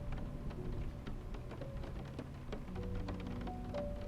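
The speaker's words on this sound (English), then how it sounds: "the rain beat down inches away" Heavy rain beating down close by, a dense steady patter of drops on surfaces with scattered louder splashes, over a low rumble and faint tonal background.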